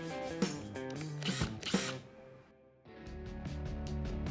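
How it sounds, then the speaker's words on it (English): Makita compact impact driver driving screws into a desk apron, sharp whirring bursts with rapid hammering rattle, a brief pause, then another sustained run, close and loud. "It was now time to go in with the Makita Compact Impact Driver."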